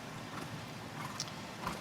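A large horse's hooves clip-clop at a steady gait during a dressage test, faint and distant under a hum of arena ambience.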